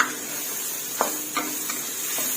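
Minced pork being stir-fried in a pan, a steady sizzle with a few distinct spatula scrapes and taps, close and alone.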